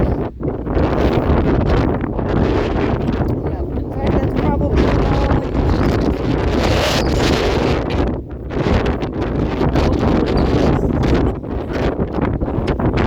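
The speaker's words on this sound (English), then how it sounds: "not today because it is so windy" Strong wind roars and buffets the microphone throughout, with a person talking over the steady gusty rumble.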